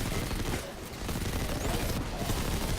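Rapid submachine gun fire in the Destiny 2 video game, a dense continuous burst of gunfire that fills the whole stretch at steady loudness, with no talking.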